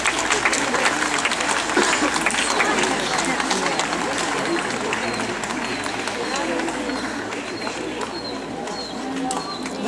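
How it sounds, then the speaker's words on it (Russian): An audience applauds to welcome choir vocalists at a concert, loud dense clapping that carries on steadily from start to finish, with voices faintly mixed in. "Давайте встретим наших прекрасных вокалистов дружными аплодисментами."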